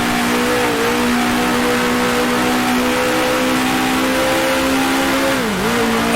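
Engine of a 1966 Formula One car in the Grand Prix Legends racing game, droning steadily at high revs for several seconds, its pitch dipping briefly twice as gears change, loud and close with no talk.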